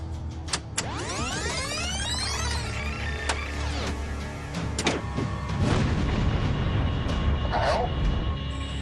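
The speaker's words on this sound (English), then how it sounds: "Can we hear that explosion again?" A recorded explosion plays back as a dull, slightly prolonged boom amid a messy, rumbling mix of clattering and whooshing noises, fairly loud throughout with no clear speech.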